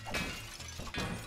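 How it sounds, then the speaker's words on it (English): Clay pots shatter in a video game as two crisp breaking crashes about a second apart, each with a bright splintering burst and some low background. "I have to shatter pots?"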